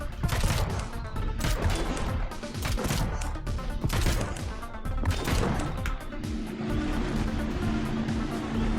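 Weapons fire from a player-built vehicle in Trailmakers: dense, continuous bursts of rapid shots and crashes over a rumbling engine, loud and close, with a steady hum joining near the end.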